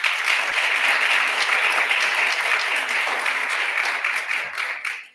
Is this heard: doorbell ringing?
no